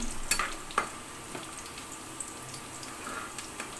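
Food frying in a pan on an electric stove, a soft continuous sizzle with a few sharp clinks and scrapes of a utensil near the start, fairly quiet and close.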